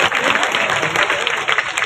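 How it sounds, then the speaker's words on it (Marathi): A crowd at a Shiv Sena birthday rally claps vigorously in a short, dense burst of applause. "सर्वांनी मुख्यमंत्री जोरदार टाळ्या वाजवायच्या आहेत"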